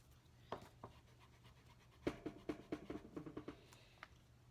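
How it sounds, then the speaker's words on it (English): Marker scratching across a whiteboard in a classroom, with short, faint squeaky strokes in quick bursts and a longer run of rapid writing in the middle, no talk over it. "So you write that on the whiteboard"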